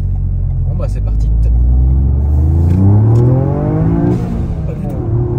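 A car engine revs up loud and close through a raspy, throaty exhaust, the pitch climbing steadily and then holding high, while a person talks over it.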